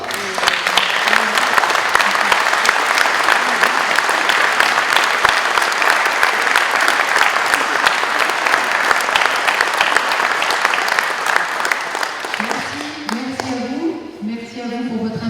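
Audience at a New Year's greetings ceremony applauding young municipal councillors, sustained loud hall applause for about twelve seconds that fades out as a voice begins speaking at the end.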